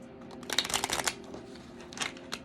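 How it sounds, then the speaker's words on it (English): Awakened Dreamer Oracle cards are shuffled by hand close up, a quick run of soft papery riffles and slaps, then a second brief flurry after a short pause. "All right, one more shuffle."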